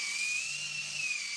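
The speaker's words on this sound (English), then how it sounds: "I sand it easily with the sanding disc attached to this angle grinder" Angle grinder fitted with a sanding disc working a piece of scrap wood, giving a steady high-pitched whine over a rough abrasive hiss, held evenly and close up without pause.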